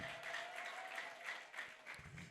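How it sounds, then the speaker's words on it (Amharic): A church congregation claps and applauds continuously during a prayer service, a dense wash of hand claps at moderate distance for a couple of seconds. "አጨብጭቡ ለጌታችን ለኢየሱስ"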